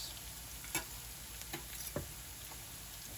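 Onions, peppers and garlic frying in a pan for a frittata, a low steady sizzle with a few soft scrapes of stirring, quiet and close.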